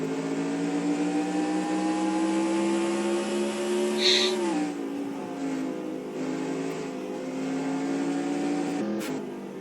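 Race car engine heard onboard from a helmet camera during a lap at Canadian Tire Motorsport Park, a steady loud drone that holds high, then dips and recovers as the driver lifts and gets back on the throttle.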